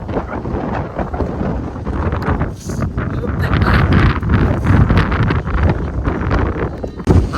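Strong wind on Kappatagudda hills roars and buffets the microphone in heavy, uneven gusts, loud and close throughout.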